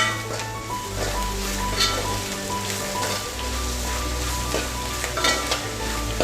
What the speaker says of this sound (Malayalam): ഗരം മസാല, ഒരു അര സ്പൂൺ കുരുമുളക് പൊടി എന്നിവ ചേർത്ത് നന്നായി വഴറ്റുക